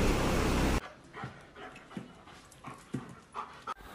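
A dog panting rapidly and close by, with short whimpering yips mixed in, in a rhythmic series of breathy puffs after a burst of noise at the start.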